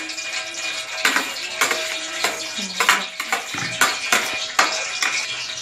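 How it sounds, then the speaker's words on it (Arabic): Onions sautéing in oil in a pan for an oven-baked sardine and tuna tray, with a steady sizzle and repeated scraping stirs of a utensil against the pan throughout. "نشوح البصل دلوقتي في الزيت اهو يا حبايبي."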